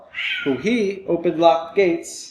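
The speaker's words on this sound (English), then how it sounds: "Sorry about the cat." A house cat meows in drawn-out, wavering cries that overlap someone talking close by.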